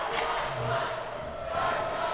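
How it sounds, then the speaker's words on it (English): Crowd noise from spectators at a UNM Lobos versus Texas Tech college ice hockey game late in the third period, a steady broadband roar of cheering and shouting that swells near the end. "the crowd getting into the game now more and more"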